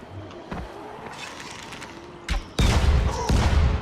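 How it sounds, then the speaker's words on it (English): Exploding arrows set off blasts in the zombie video game Dying Light, first a soft thump and a short burst, then a loud sustained crackling explosion to the end, with no talking. "This is like a big explosion."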